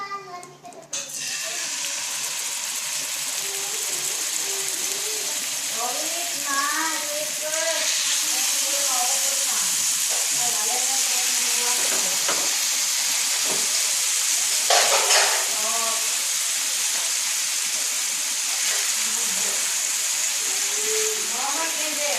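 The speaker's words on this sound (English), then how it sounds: "So we basically just fry these things until they get a little golden brown on each side." Pork pieces and onions frying in a little oil in a pan give a steady, close sizzle that holds through the whole stretch, with a voice talking over it at times.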